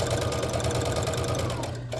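A sewing machine runs steadily, stitching a fabric potholder down to an ending line, with a continuous, even motor hum and fast needle rhythm throughout, close and fairly loud.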